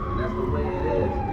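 An ambulance siren wails steadily and fairly loudly over street noise in New York, with someone talking over it.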